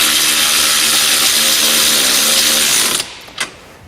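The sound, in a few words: tightening nylock nuts on a U-bolt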